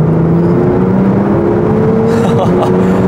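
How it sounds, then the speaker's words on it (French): A Porsche 911 Turbo S of the 991 generation accelerates on a closed road, its engine tone rising steadily and loud with a brief shift near the end, heard from inside the car. "On va accélérer un petit coup."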